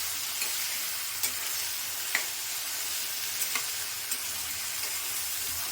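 Elephant foot yam frying in oil in a pan for a tangy tamarind curry, a steady soft sizzle with occasional light clicks of stirring, close and fairly quiet, no voices.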